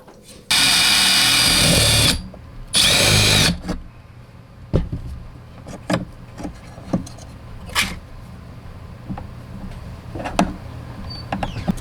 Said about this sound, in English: now I'm going to drill a pilot hole through here, and then I'll just enlarge it.